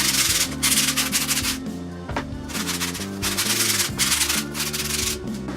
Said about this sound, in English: once you're done sanding down the outside of the grip tape